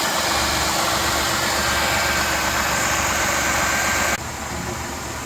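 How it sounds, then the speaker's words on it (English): A Mazda Tribute or Ford Escape engine idles with a steady, dense drone after a serpentine belt and tensioner replacement, with faint bearing noise from the AC compressor. The sound is loud and close and drops in level just before the end. "I do have a little bit of noise coming from the bearings on the AC compressor there"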